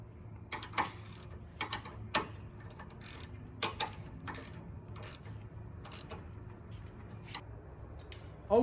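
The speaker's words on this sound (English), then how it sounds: "first tighten the bolt heads up, then come in and tighten the nuts up" Bolts and nuts being tightened while installing a swivel loading ramp in a Mercedes van, heard as a string of sharp metallic ratchet clicks in short bursts over a low background hum, with no talking.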